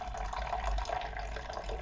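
Liquid poured into a record cleaning machine's reservoir, a steady continuous trickling and splashing that runs evenly throughout at close range with no talking.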